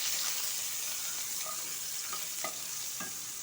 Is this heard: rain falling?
no